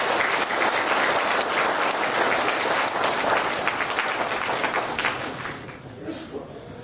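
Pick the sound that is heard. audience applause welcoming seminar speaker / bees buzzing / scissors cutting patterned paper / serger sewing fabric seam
audience applause welcoming seminar speaker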